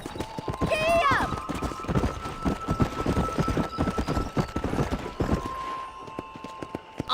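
A horse in the video game Red Dead gallops with rapid, rhythmic clip-clop hoofbeats and gives a brief whinny near the start, while voices and a tonal game sound run beneath.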